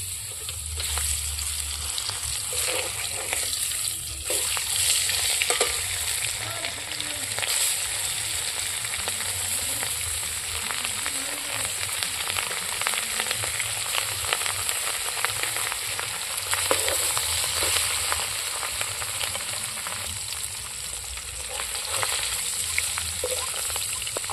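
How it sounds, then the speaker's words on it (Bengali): Steady, crackling sizzle of rohu fish frying in hot oil, continuous and close throughout, with no talking. "তেলটা গরম হয়ে গেছে মাছগুলো দিয়ে দেবো"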